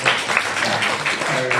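Audience applause after a student film screening and Q&A at Sheffield University: a short burst of dense, fairly loud clapping from a room of people.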